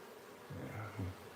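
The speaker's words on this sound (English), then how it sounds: "a lot of bees in here," Bees buzzing in a wild hive during a transfer to a new home: a brief, close, wavering drone that swells into two louder pulses.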